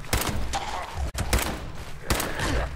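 Pistol shots in the video game Fallout 76, fired against ghouls: several loud, punchy reports spaced about a second apart, each with a short ringing tail, and little talk over them.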